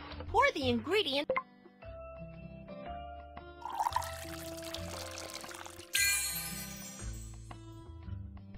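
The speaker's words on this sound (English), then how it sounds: "Pour the ingredient." A soft, hissing pour of cola powder mixture in the Baby Panda candy factory game plays over cheerful electronic game music with simple repeating tones.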